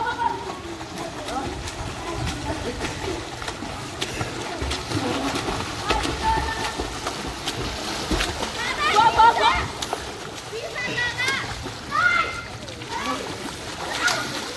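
Water splashing in a small swimming pool in Nepal, with irregular close splashes and sloshing under near-constant chatter from several people.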